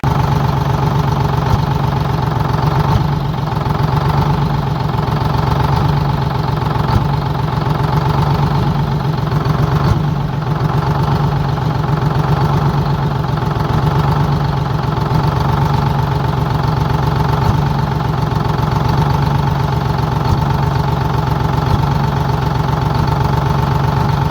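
A Texas Silversides bus engine runs steadily just after its first start, a loud, close, even idle with a low throbbing drone and faint knocking, uninterrupted throughout.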